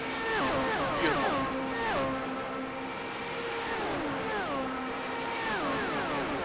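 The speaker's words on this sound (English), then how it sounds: "Sometimes you just like to take a listen to the natural sounds of these engines." Classic IndyCar race cars circulating at Michigan, engines rising and falling in pitch as several cars pass one after another, a steady loud roar with repeated downshift sweeps and no talk.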